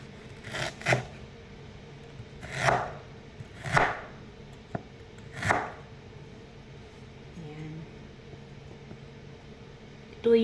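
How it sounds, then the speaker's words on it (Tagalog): A knife cuts ginger into thin strips on a board: four or five distinct, close chopping strokes spaced unevenly, with quiet pauses and faint handling noises between them. "At yung pag-slice natin yung luya, stripe. Thin stripe."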